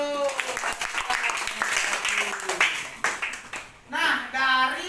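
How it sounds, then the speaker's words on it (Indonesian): A school class applauds after a group presentation, a short burst of scattered clapping from many hands in a classroom, with voices talking over and after it. "Tepuk tangan dulu."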